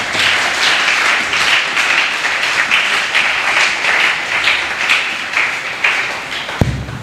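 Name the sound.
church congregation applauding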